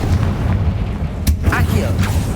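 Confringo blasting spell explosion in Hogwarts Legacy, a heavy continuous low boom with a sharp crack near the middle, loud and close, while a voice speaks faintly over it.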